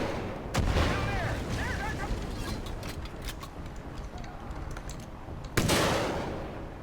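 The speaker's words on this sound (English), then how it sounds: "I'm gonna go ahead and shoot that smokestack." Gunfire in Far Cry 5 Arcade aimed at a smokestack: two sharp, loud shots about five seconds apart, with fainter pops, clicks and game sounds in between.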